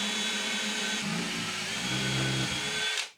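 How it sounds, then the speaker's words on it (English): A power drill runs at a steady whine, its pitch dipping slightly as it bites into a small metal frame held in a vise, then spins down and stops. "let's go and drill this hole first"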